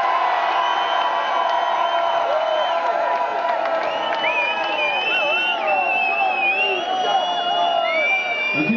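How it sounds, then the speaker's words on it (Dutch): A large crowd at a Dutch talent show jury segment cheers, whoops and shouts continuously, with clapping mixed into the dense roar of many voices. "Geef ze nog één keer een waanzinnig hard applaus"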